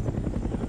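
Gunship helicopter in a Vietnam-era flight video game, steady whirring rotor and engine drone, continuous and moderately loud with no one speaking.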